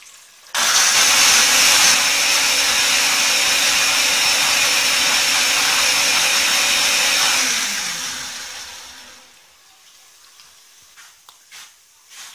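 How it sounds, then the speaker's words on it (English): A loud, steady whir from a blender grinding spices runs unbroken for about seven seconds, then winds down and fades, leaving faint clatter in a home kitchen. "I'll just go ahead to blend my spices"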